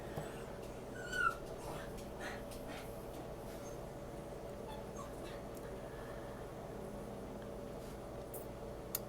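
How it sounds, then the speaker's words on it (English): A dog whimpers faintly in the background of an indoor room, one short high whine early on, then only a low steady hum with a few soft distant noises. "that's my dog in the background"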